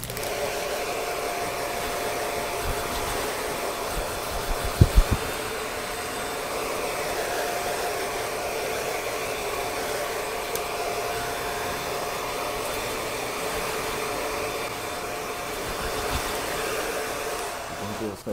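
A hair dryer blows steadily and loudly for the whole stretch while drying a man's hair after a haircut, with a brief clatter partway through and no talking.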